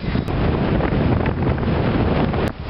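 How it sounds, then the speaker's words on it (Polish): Strong wind buffets the microphone high on Gasherbrum I, a loud, continuous roaring rumble with gusty surges and no voices. "trochę wieje"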